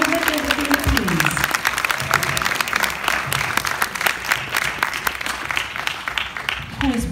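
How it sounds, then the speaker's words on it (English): A crowd claps steadily throughout at a school graduation ceremony, a dense patter of applause at moderate volume. "Please give him a round of applause."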